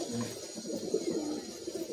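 Pigeons in a loft coo in a low, continuous, rolling murmur, moderately close, with no voices over it.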